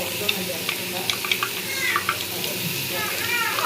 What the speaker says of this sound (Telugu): పేస్ట్ వేసాం కదండి. పచ్చివాసన పోయే వరకు వేయించుకుందాము.